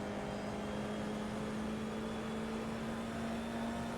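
A Formula 4 race car in the iRacing sim at Brands Hatch holds a steady, loud engine drone with a sustained tonal whine, building on the throttle without clear revving peaks.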